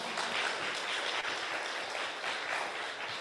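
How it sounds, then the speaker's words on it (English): A lecture audience applauds the speaker at the end of an evening talk, a steady, moderately quiet patter of many hands filling the hall without pause. "Round of applause again for Dr. Travis Lau"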